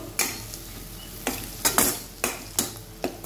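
A spoon scrapes and stirs through bread oggarane with onion, curry leaves and coriander in a pan, with about six sharp strokes spaced unevenly over a soft, constant sizzle.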